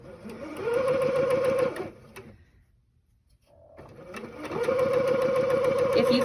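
Sewing machine hemming a tiny hem on the short 9-inch ends of a fabric mask rectangle, a steady close mechanical whir that stops briefly in the middle before running on again.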